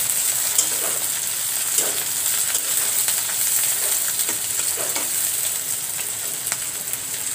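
Prawns fry in hot oil with a loud, close, continuous hiss and crackle, with occasional soft pops and stirring clicks over the sizzle.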